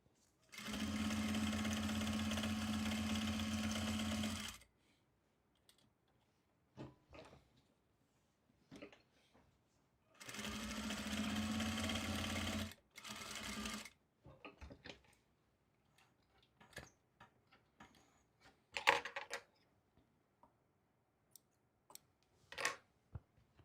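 A sewing machine stitches fabric for a C3PO costume bustier in two steady runs of several seconds each. Quiet clicks and handling noises of the fabric fill the pauses between runs.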